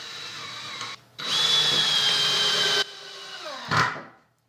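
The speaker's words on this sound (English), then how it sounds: "I did find it was way more useful to do little pilot holes with this hardwood and my crappy drill" A cheap, weak power drill bores pilot holes into hardwood during a studio build, whining loudly in two sustained bursts separated by short pauses, then winding down and trailing off at the end.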